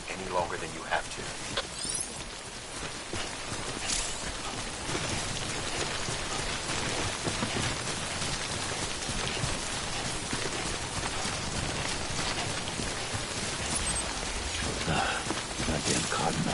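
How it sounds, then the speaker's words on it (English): Timefall rain falls in the Death Stranding video game, a steady patter of drops hitting surfaces through the whole stretch, with brief footstep-like clops and a voice speaking over it. "Don't stay out in the rain any longer than you have to."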